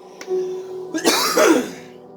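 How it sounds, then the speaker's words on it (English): A single close, rough cough with some throat clearing, preceded by a brief tonal hum, loud and isolated. "Sorry for the cough"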